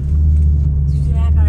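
A voice imitates a car's hydraulic handbrake with a steady, loud, engine-like rumble that holds for the whole stretch, a raspy hiss rising near the end.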